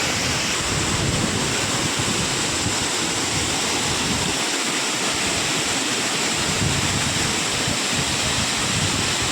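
Vyaghreshwar waterfall at Manche in Konkan, running with a reduced flow of water, gives a steady, dense roar of falling water that stays constant and fairly loud throughout, with no voices.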